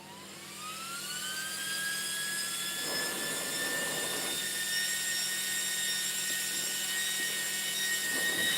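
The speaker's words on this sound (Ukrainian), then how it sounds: "Ось такі малесенькі куліра 40 на 40 мм, товщина 28 Але обертаються з неймовірною швидкістю 22 тисячі оборотів." Tiny 40x40 mm, 28 mm-thick cooling fans spinning up to 22,000 rpm, a loud steady whine that climbs in pitch over the first seconds and then holds a piercing, jet-like roar close to the listener.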